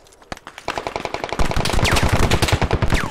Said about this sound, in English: Shots east.